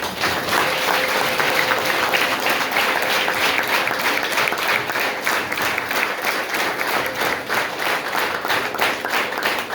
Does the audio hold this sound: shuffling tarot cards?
no